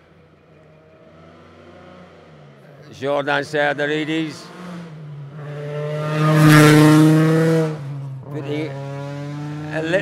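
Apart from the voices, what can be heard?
rally cars passing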